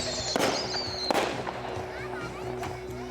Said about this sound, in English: Now we're going to do 5 super bombs.